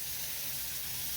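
Onion frying in a pan with a little salt for a methi-tomato bhaji, a steady, soft hiss and sizzle, even and close, with no talking.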